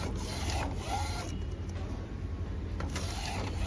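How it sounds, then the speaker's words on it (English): A DTF printer at work, giving a steady mechanical hum and whir with faint rubbing and carriage noises, continuous and close, with no speech. "we have started printing"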